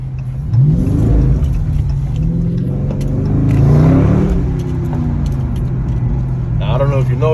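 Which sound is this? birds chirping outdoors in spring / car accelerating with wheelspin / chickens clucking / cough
car accelerating with wheelspin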